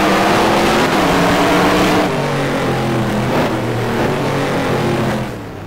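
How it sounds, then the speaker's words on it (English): Race cars in an IROC race at the Infineon circuit in a racing video game mod, loud, sustained engine roar with shifting pitch as the cars climb the hill, with no talking. "Spaz on the bumper of Lawyer up the hill"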